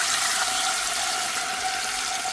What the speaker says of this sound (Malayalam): നമുക്ക് അതിലേക്ക് കുറച്ച് തേങ്ങാപ്പാൽ ഒഴിച്ച് കൊടുക്കാം